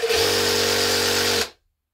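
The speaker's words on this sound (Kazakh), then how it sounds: "Мінекей насосын істетіп көрейік, баскетболға жел беріп көрейік." A compact electric pump attachment on a multi-function cordless tool runs while inflating a basketball, a steady motor whir with a droning hum that cuts off abruptly after about one and a half seconds.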